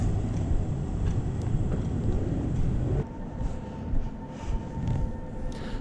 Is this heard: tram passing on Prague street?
yes